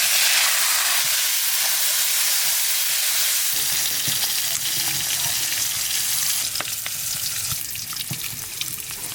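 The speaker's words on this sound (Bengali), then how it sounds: "এই সাথে সাথে বিনসটাও ভেজে নেব।" Beans frying in white oil in a pan, a loud, continuous close hiss and sizzle with stirring scrapes that grow busier midway, no talk.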